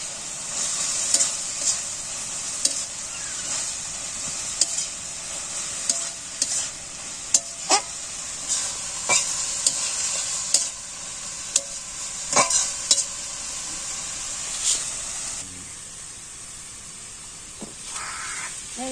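Curry made with jujube (boroi) stirred in a frying pan over a village fire: a steady frying sizzle with repeated scraping stir strokes throughout, fairly close, and no voices.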